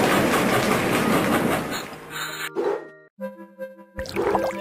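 A train sound plays in a children's letter-learning video game, a rattling rolling burst at first that breaks off into short chimes and tonal blips, all at close range with no talking.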